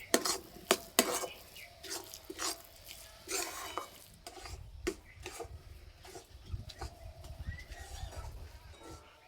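A spoon stirring a carrot rasmalai mixture in a pan over low heat, scraping and clinking against the metal with faint sizzling, steady and close with no talk.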